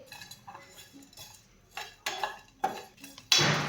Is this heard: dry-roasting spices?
yes